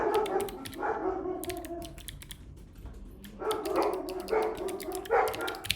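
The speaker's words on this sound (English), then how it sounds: "Sorry for the barking, everybody." Several dogs bark in repeated bursts, loud and close, with rapid computer keyboard typing clicking steadily underneath.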